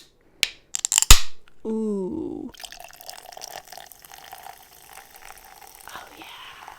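A can of sparkling water opens with a sharp crack and fizz, then come pouring and gulping, close to the microphone and followed by soft rustling; someone briefly exclaims.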